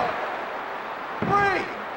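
A Tiger Driver slam lands in a wrestling video game, a single heavy thud after a stretch of steady crowd-like noise, with a short ringing tail and a voice speaking over it.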